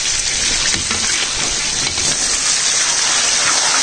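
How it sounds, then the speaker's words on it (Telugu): Ridge gourds are washed under running water, which makes a steady, close splashing and gushing sound that continues throughout with no voice. "బీరకాయ మంచిగా కడుక్కొని వేసుకోవాలండి."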